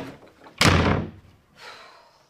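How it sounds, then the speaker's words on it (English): A door slams shut in a house with a sudden loud, close bang and a brief rattling decay, followed by a fainter softer bump a moment later. "Always slamming doors in men's faces."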